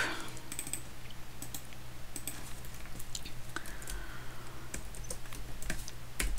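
Typing on a computer keyboard while entering chord symbols into MuseScore notation software: a steady patter of close, quick key clicks with occasional sharper taps, no talking.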